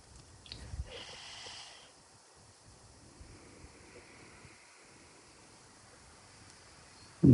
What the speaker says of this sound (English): Close the mouth, exhale through the nose.